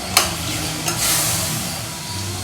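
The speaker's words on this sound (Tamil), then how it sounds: "தனியா மசாலா பொடி போட்டு ஒரு நிமிஷம் நம்ம வதக்கியாச்சு." Coriander masala powder sautés in a pan, a soft steady sizzle with a few sharp scraping stirs of a spatula near the start and middle, close and moderately quiet, no talk.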